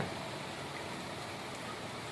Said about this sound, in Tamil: செம்ம மழை அடிக்குது பாருங்கள்